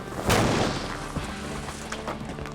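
Thermite burning down onto a block of ice sets off a sharp explosive boom that then rolls into a dense, crackling rumble, with a few smaller pops trailing after.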